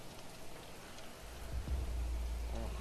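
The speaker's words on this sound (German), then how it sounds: "Oh, schon wieder Regen." Steady rain hisses in the survival video game Planet Crafter, a soft, even downpour with a low rumble swelling beneath it partway through, heard with no talking.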